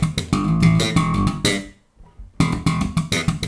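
Slap bass riff played up to speed: a quick cluster of snappy thumbed and popped notes, a short gap, then the pattern restarts, loud and up close.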